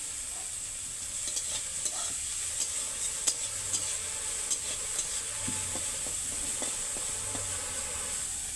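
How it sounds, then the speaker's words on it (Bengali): Prawns fry in a pan with a soft steady sizzle, joined by intermittent scraping and clinks as they are turned, close and quiet with no speech. "এবার চিংড়ি মাছগুলো আমি ভেজে দিচ্ছি। দেখো চিংড়ি মাছগুলো আমি উল্টে দিচ্ছি।"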